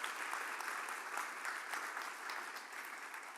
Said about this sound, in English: Round of applause, Jenny and Rachel.